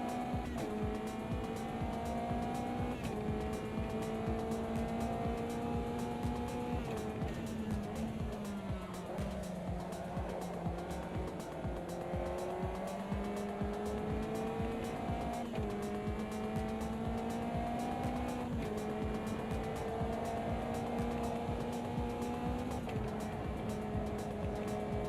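A race car engine holds a steady loud tone while cornering on a track, revs rising and dipping with throttle changes through the bends, with tire noise continuous underneath.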